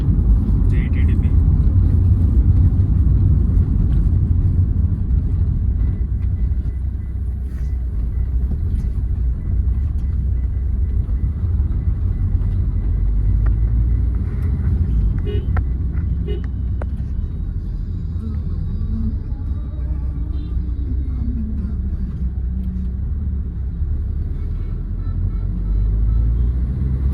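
A 2008 Hyundai Verna 1.6 turbo diesel driving through city streets in Kakinada, heard as a steady low engine and road rumble from inside the cabin, continuous throughout with a few faint background sounds.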